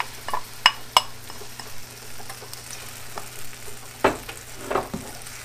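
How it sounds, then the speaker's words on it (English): Pureed onion sizzles in a skillet while a utensil stirs it, with a steady frying hiss and several sharp scrapes and clinks against the pan, close and with no talk. "Stir these around, let these cook for a bit."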